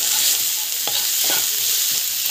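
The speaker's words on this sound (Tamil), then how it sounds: "தேவையான அளவுக்கு மஞ்சள் பொடி வந்து ஆட் பண்ணிட்டு நல்லா வந்து இது வதக்கிக்கோங்க" Ginger garlic paste with turmeric powder sautés in a pan, a constant close hiss of frying with a few soft scrapes and stirs of the spoon, and no talking.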